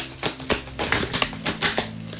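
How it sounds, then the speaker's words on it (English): A deck of tarot cards is shuffled by hand, giving a run of crisp, papery flicking bursts at an uneven rhythm, close and clear with no talk. "this deck doesn't want to shuffle"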